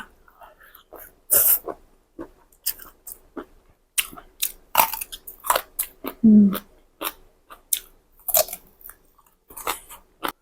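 Crunchy, wet chewing of spicy squid-tentacle tam sua wrapped in Thai rice noodles, close to the mic, with irregular bites and crunches spread across the clip.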